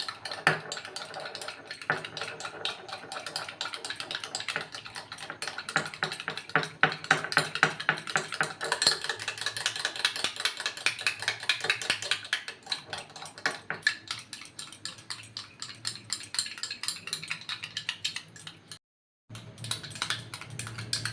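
Sour and sweet curd are whisked together in a bowl with rapid, rhythmic tapping clicks of a utensil, close and fairly quiet, briefly pausing near the end.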